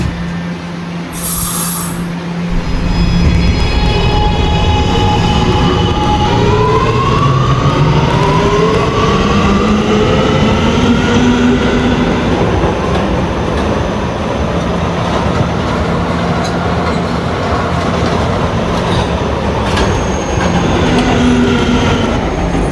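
An R211A subway train in a Roblox video game runs along the track with a loud, continuous rumble and rising and falling motor whines, with some faint squeal and clatter.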